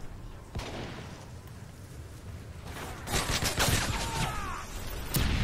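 MP7 submachine gun fire in Modern Warfare 3, a sharp shot, then a quieter stretch, then a louder flurry of rapid overlapping bursts toward the end, with no talk over it.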